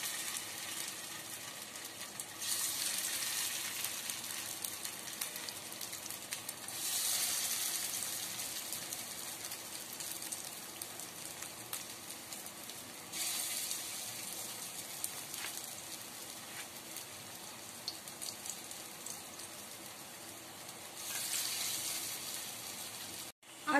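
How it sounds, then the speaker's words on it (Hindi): Corn tikkis fry in hot mustard oil in a kadhai over low heat, giving a steady, soft sizzle and crackle that swells in a few louder surges, with no talking. "अब मेरा तेल गर्म हो गया है, अब धीमा आंच करके अब इसमें टिक्की डाल दूंगी।"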